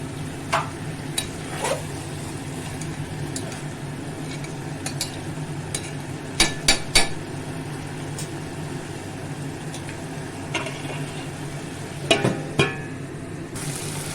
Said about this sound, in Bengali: দেখো পুরো ভাজা ভাজা হয়ে তেল বেরিয়ে গেছে